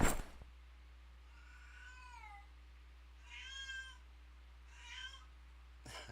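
A cat meows insistently three times in a row, each cry rising and falling, fairly close and clear over a steady low hum, with no voices and a brief knock at the start and end.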